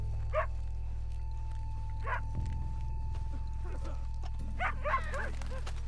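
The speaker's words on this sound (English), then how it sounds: "You're hearing dogs barking." Dogs bark in the Red Dead Redemption 2 game world, several separate barks spaced over a few seconds at moderate distance against a steady low ambient hum.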